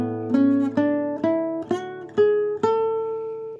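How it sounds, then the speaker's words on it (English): A major scale rises step by step on a pitched instrument, about seven distinct notes in a steady rhythm over a held low note, played close with nothing else heard. "Now the major scale sounds like this."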